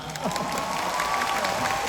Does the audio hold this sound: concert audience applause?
yes